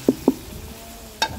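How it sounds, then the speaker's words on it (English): Fresh green seasoning hits hot oil in a pot for Guyanese chicken curry, giving two short sizzling bursts close by, then a low steady fry and a brighter hiss near the end. "That's fresh green seasoning going in there."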